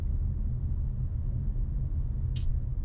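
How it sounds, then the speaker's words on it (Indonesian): Steady low road rumble fills the cabin of a gasoline-engined car being compared with a 2020 Fortuner TRD Sportivo, a constant droning hum that holds evenly throughout with a brief faint high chirp near the end. "Yang cuman saya sebel dari mobil ini road noise-nya masuk."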